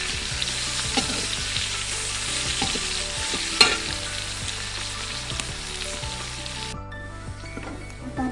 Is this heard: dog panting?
no